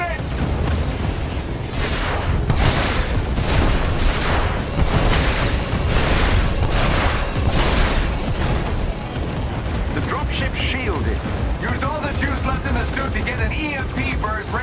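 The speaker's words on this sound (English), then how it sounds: "Their artillery's targeting you." Repeated heavy artillery blasts and rumbling booms pound loudly and close in Marvel's Avengers, a dense barrage of impacts running throughout, with voices talking over the combat.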